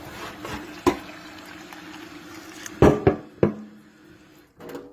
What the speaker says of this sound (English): I rinse these real good, and I'm gonna rinse them some more.